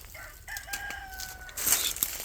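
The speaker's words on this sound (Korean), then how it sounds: "저 닭입니까?" A chicken rooster on a farm with a vineyard of grafted Shine Muscat grapes lets out one drawn-out crow at moderate distance, followed by a brief burst of clucking and outdoor rustle.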